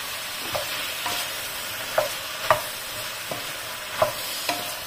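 Eggplant fries in oil in a hot pot, with a soft continuous sizzle broken by regular scraping clanks of a utensil stirring against the pot, close and with no talking.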